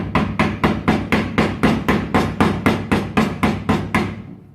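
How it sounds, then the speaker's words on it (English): A hammer taps a CV joint tripod down onto a car drive shaft during a CV boot replacement, fourteen or so evenly spaced, ringing metallic blows in a quick steady rhythm, close and clear. "we'll just give it a little light tap with the magic hammer"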